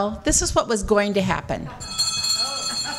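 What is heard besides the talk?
bell rung at a candidates meeting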